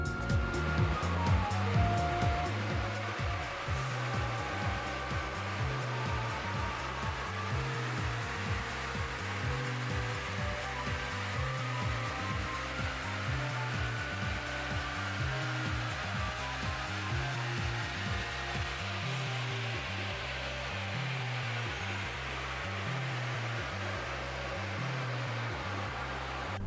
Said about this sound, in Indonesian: Suara exhaustnya jauh lebih smooth, lebih beraturan karena pulse dari knalpot punya port ya